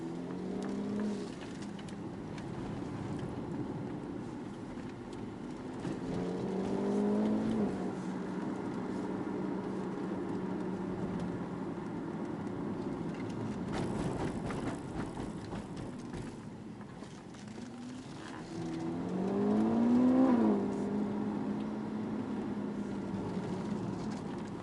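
Car on a shakedown drive, heard from inside as a steady engine drone with rising and falling gear-change sweeps and road rumble, moderately faint and continuous.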